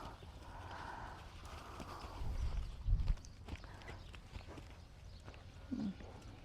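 An Arabian endurance gelding's hooves clop at a walk nearby, a few uneven thuds on the ground that are loudest in the middle, with faint low background noise.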